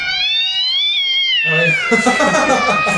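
A cat meows in a short clip played back from a phone-style video, with long sliding cries that turn into a rougher, louder caterwaul partway through, close and fairly loud, with no talk over it.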